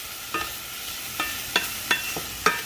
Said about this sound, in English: So we're getting a really good sizzle going here